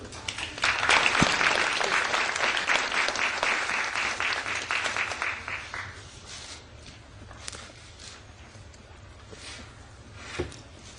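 Audience applause welcoming a keynote speech at a Korean press forum, a dense burst of clapping that builds quickly, holds for several seconds, then thins out into scattered claps.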